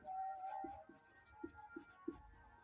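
Chalk or marker strokes on a classroom board as a chemistry teacher writes a compound name, a series of short scratchy taps and strokes, fairly faint, with no talk over them.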